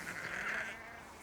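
A sheep gives a single drawn-out bleat close by, swelling and then tapering off over about a second against quiet outdoor background.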